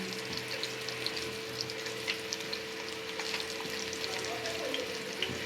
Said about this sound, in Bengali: এভাবে সবটি একসাথে ভেজে নেবেন।